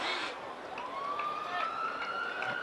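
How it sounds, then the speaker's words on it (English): Emergency vehicle siren in Chelmsford city centre during a Twenty20 cricket match between Essex Eagles and Kent Spitfires, a distant rising and falling wail running steadily under a broad crowd and ambient hum. "The inevitable sirens around Chelmsford City Centre."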